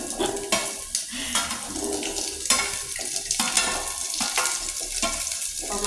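Chillies splutter and crackle in hot oil in a pan while mint chutney is cooked, with a steady loud sizzle broken by scraping stirs and light clinks of the pan.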